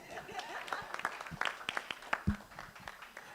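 An audience at a talk event gives scattered, light clapping that rises briefly and fades, with voices murmuring underneath.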